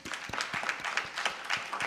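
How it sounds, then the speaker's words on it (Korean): A church middle and high school youth group audience claps in encouragement, a soft, fairly distant patter of hands with a loose, steady rhythm and no voices over it. "우리 한번 격려의 박수."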